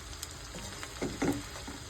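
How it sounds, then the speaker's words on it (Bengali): Onions frying in oil with dried red chilli and bay leaf in a home kitchen, a steady close sizzle with a few brief louder crackling bursts, no talking. "শুকনো লঙ্কা তেজপাতা ফোড়ন দিয়ে পেঁয়াজ পেঁয়াজ ভাজতে দিয়ে দিয়েছি"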